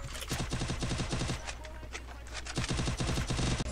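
Rapid bursts of automatic gunfire in the mobile shooter game Free Fire rattle in quick repeated volleys, loud and close, with a short pause midway before firing resumes.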